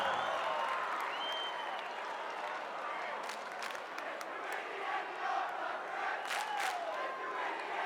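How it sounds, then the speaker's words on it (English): A high school basketball crowd from Layton celebrates at a state tournament game, a steady, distant roar of cheering, shouts and clapping that holds throughout with occasional sharper whistles and yells rising above it. "And the Layton crowd celebrating."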